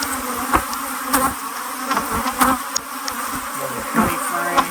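Honey bees buzz in a steady swarm while nucs are being combined in cloudy, damp weather, with individual bees zipping close past in repeated loud swells over the constant hum.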